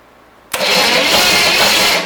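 A junkyard engine for a 1972 Corvette, sitting on a garage floor, cranks and catches after half a second of quiet, then roars at a loud steady run close by with no voices.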